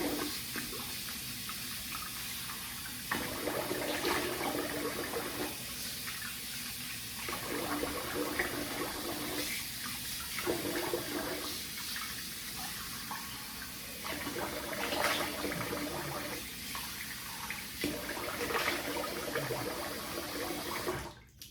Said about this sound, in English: All right, I'm gonna rinse the face.